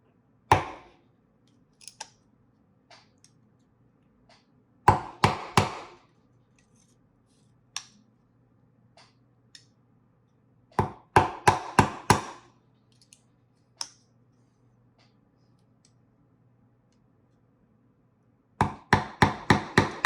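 Hammer blows drive a nail through a plexiglass windshield laid on a piece of wood, coming as sharp close taps in short bursts of three to five strikes with quiet gaps between them.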